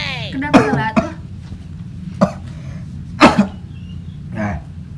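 A man coughs in several sharp, separate bursts spread over a few seconds, close and fairly loud against a quiet background.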